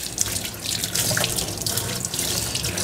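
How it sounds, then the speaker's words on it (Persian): Lentils rinsed in a colander under a running kitchen tap: a loud, steady splashing rush of water, heard up close with no talk. "مرجا را آبکش میکنیم"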